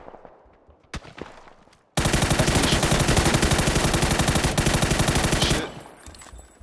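Sustained automatic gunfire in PUBG, a loud dense burst of rapid shots lasting several seconds after a couple of isolated single shots, then cutting off.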